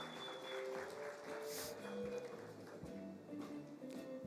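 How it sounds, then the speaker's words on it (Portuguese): Church congregation applause, a continuous wash of clapping at moderate level mixed with murmuring voices and some reverberant hall tones. "Uma salva de palmas para os nossos irmãos."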